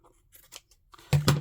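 Scissors cutting excess material off a handmade fabric-covered journal: light rustling, then two quick crisp snips close by, the last two louder.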